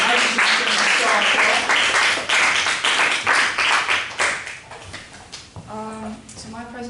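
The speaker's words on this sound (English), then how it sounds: "Nice warm round of applause." An audience gives a presenter a warm round of applause, a burst of clapping that fades over a few seconds, with a voice speaking over and after it.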